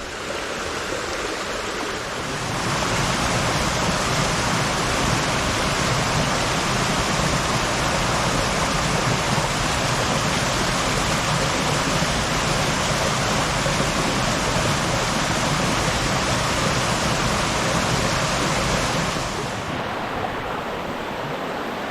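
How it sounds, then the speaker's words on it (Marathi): A stream swollen after overnight rain rushes past, a loud, steady broadband roar of flowing water that continues unbroken for the whole stretch, with no talk. "ओळ्याचं पाणी थोडंसं वाढलं मित्रांनो काल रात्री पाऊस पडल्यामुळे"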